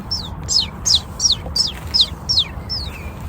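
A person's voice imitates a bird, tweeting eight quick, evenly spaced, high chirps, each sliding downward. The chirps come close and moderately loud over a low background murmur.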